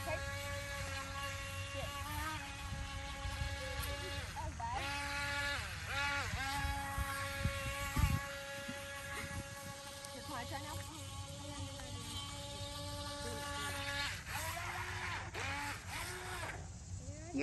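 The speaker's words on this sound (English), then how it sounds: "It's a little motorized boat," Small motorized toy boat racing across a pond, a thin high-pitched buzzing whine that rises and falls in pitch as it speeds about, continuous and fairly near, with people talking over it.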